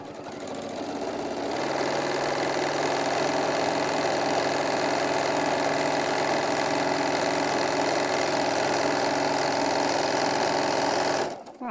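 A sewing machine stitches straight across fabric along the edge for a bag seam, a fast, even mechanical whir that starts up, runs steadily for about ten seconds and then stops.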